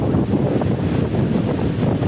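Powerful wind from Typhoon Odette (signal number 3) on Pitogo island, Bohol, pounds the microphone in a heavy, unbroken low rumble, loud and close throughout with no voices.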